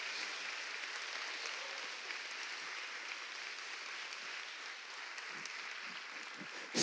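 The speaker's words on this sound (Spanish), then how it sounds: "pido un aplauso así de encontro cordial a Coruña" Sustained applause from a theatre audience at the opening ceremony of an international anthropology congress at Teatro Colón in A Coruña, a dense, steady wash of clapping that holds evenly for several seconds.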